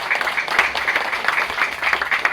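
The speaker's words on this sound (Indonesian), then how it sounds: "mari kita tepuk tangan" Dense crowd applause at an Indonesian gathering, steady and sustained throughout, mid-distance with no talk over it.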